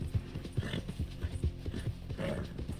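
A horse in Red Dead Redemption 2 gallops with quick, regular hoofbeats that thud at a moderate distance, and a faint whinny rises briefly near the end.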